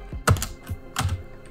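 A few quick clicks of typing on a computer keyboard, close and crisp, in two short clusters with no talking.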